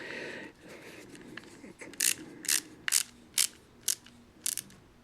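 A ratcheting knee joint on a Transformers Prime Beast Hunters Optimus Prime figure gives a series of six sharp, close plastic clicks in an uneven rhythm, heard alone without talk.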